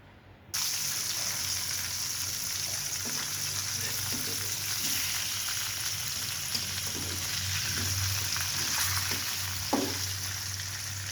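Rohu fish head frying in hot oil, a loud, dense sizzle that starts abruptly and holds steady close by, with occasional small pops and crackles.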